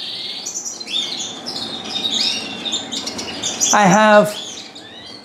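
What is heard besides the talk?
young canaries chirping in a bird room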